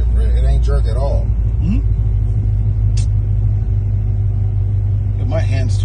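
Supercharged 2016 Corvette engine rumbles steadily through a smooth rev-matched downshift, a brief rising rev blip standing out over the low drone, while people talk inside the car.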